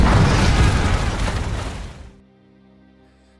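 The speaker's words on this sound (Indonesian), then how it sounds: "Bishop segera meledakkan kapalnya menggunakan bom yang sudah lama ia pasang di sana" A bomb blowing up a boat in a film scene: a loud, dense blast that rumbles and roars for about two seconds before cutting abruptly to near silence.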